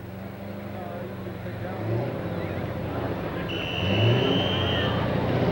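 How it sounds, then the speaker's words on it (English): A Massey pulling tractor in the 10,000 lb Pro class at a 1996 Taylorville, Illinois tractor pull roars loudly and steadily, its engine climbing in revs partway through. "His hand's on the throttle, the RPMs come up, white smoke turns to still gray."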